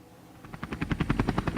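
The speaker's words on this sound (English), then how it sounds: "Miss Rabbit uses her helicopter to lift the pumpkin." A cartoon helicopter sound effect from a Peppa Pig storybook read-aloud: rapid rotor chopping fades in and grows to a close, steady thudding beat, with no talk over it.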